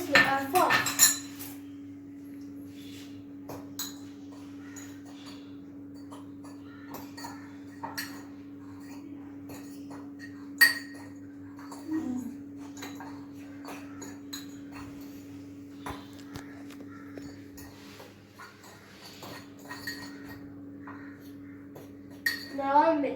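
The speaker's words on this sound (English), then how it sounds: "And now we have to mix this with our fork." A fork clinks and scrapes against a mug while mixing mug pizza batter, producing irregular metallic taps over a faint steady hum, with brief quiet talk between strokes.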